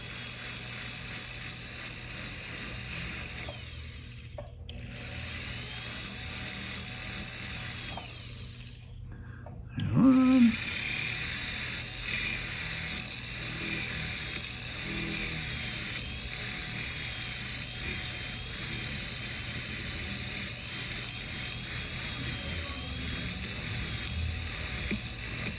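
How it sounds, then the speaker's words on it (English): Steady mechanical whirring and rasping of a rotary tool grinding and sanding down a silver jewelry bezel, continuous and close, with a couple of brief pauses and a louder bite midway. "just grinding it down or sanding it down so that it's nice and flush"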